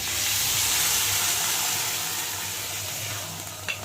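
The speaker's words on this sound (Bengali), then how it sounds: "আর এখন আমি এই যে মটরগুলো এর মধ্যে ঢেলে দেবো" Peas hit a hot pan of spices and sizzle in a loud, steady hiss that slowly softens over a few seconds, with a small clatter near the end.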